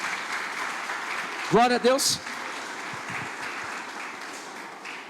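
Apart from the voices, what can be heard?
church congregation applauding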